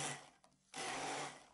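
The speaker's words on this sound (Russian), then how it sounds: "Помидоры измельчим блендером." Blender whirring as it chops tomatoes, a close motor burst that drops out briefly and then restarts at full speed.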